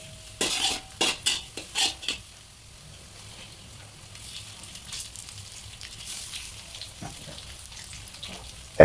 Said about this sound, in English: she's gonna fry up the garlic in a little bit of vegetable oil